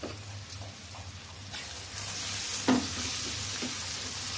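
Cumin and sweet fennel powder frying in a pan, with a steady close sizzle and occasional stirring scrapes that grow a little louder partway through.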